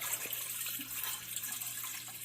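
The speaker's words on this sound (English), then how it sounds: "I use filtered water from my fridge." Filtered water from a refrigerator dispenser pours steadily into a container for sourdough dough, a continuous hissing splash with no pauses, close and moderately loud.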